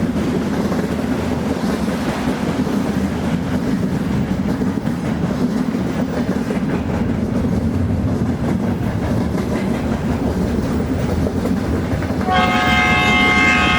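A train pulls into Majhdia station in a Bengali village ghost-story cartoon, its steady rolling rumble filling the scene before a loud, harmonic horn blast sounds near the end.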